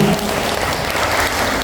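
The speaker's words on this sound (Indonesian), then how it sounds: "Boleh kita kasih tepuk tangan untuk kita semua" Brief, dense applause from a crowd at an Indonesian Independence Day celebration, steady and fairly loud for under two seconds.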